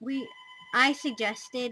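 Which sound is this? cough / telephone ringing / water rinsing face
telephone ringing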